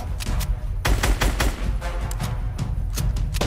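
Rapid bursts of gunfire in a battle royale video game, loud and close with several overlapping volleys and shots in quick succession.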